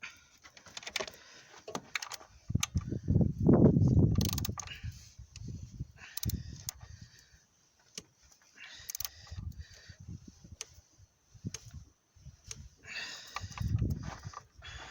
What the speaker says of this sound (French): On serre bien.